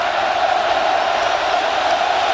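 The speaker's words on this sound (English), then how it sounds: "They are making some noise in the student section" Sustained roar of the student section at a Penn State home football game against Alabama, a broad continuous wash of crowd noise with no individual voices standing out.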